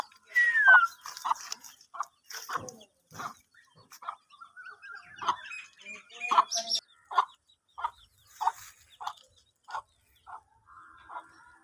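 Chickens in a village cluck in a steady run of short, soft, evenly spaced notes, with a few higher calls mixed in. The sound is fairly faint and comes from nearby in a quiet outdoor setting.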